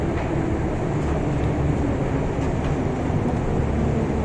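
A Minsk metro train running underground, a loud, steady roar and rumble of wheels and carriage noise filling the whole stretch, continuous and close, with no voices.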